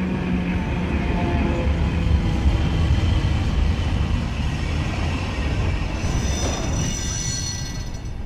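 A train rumbles steadily nearby with low rolling noise, a faint squeal of wheels rising near the end.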